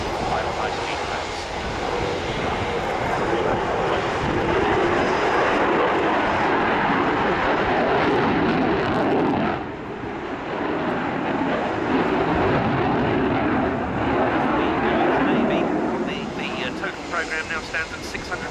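An F-18 fighter jet performs a flying display at RIAT 2010, building up speed for a final high-speed pass. Its engines make a continuous, loud roar that swells and dips slightly over nearly twenty seconds.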